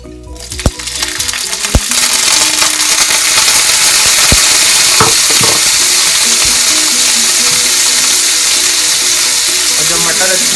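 Green peas fry in hot oil with mustard seeds in a pan for poha, starting with a few sharp clatters as they drop in, then settling into a loud, continuous close-up sizzle with occasional stirring knocks.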